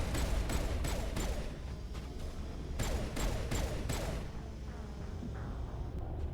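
Pistol gunfire in Mass Effect: a quick series of sharp, evenly spaced shots, a pause, then another volley, fairly quiet under game ambience.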